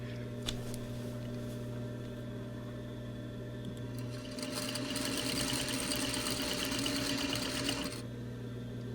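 A sewing machine stitches face mask seams in a steady, close whirring run that grows louder and busier for the last few seconds before easing off.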